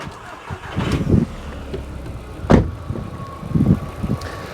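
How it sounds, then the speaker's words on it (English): A Mk1 Audi TT engine cranks and catches, then runs at a low, steady idle with a few bumps and knocks from nearby handling. "put the engine back on then and let it idle."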